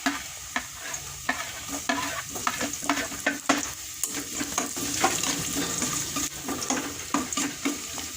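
Garlic sizzles steadily in a frying pan while a utensil stirs and scrapes in a rhythmic series of clicks and taps close by, with no voices.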